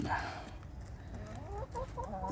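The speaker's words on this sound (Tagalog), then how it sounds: "Ang ating alagang manok sa ating bakuran." Backyard chickens in New Zealand cluck softly up close in winter, a few short clucks and murmurs over a low, steady outdoor background.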